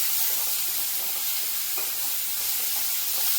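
Chopped tomato is stirred into potatoes and capsicum frying in a pan, giving a steady close sizzle with faint scraping stirs throughout and no talk.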